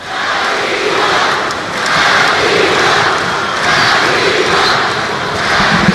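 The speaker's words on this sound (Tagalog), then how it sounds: "You can hear them, the crowd chanting for MC47" An arena crowd chants for MC47 during the 2013 PBA Commissioner's Cup semifinal, Ginebra vs Talk 'N Text, late in a close game at the free throw line: a dense, loud roar rising and falling in steady swells, with no speech on top.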